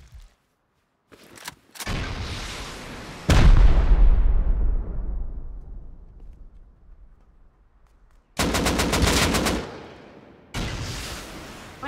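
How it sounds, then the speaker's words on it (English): Rockets and gunfire in a video game shooter: a few sharp shots, then a heavy rocket explosion with a long rumbling decay, then a loud rapid burst of automatic fire and another short volley, all close and with no talking. "Where's he shooting rockets from?"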